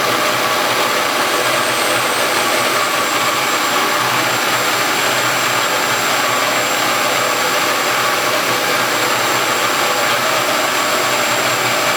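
Machine tool plunging down into a workpiece with coolant flowing, a steady loud broadband roar and hiss running unbroken throughout with no talk.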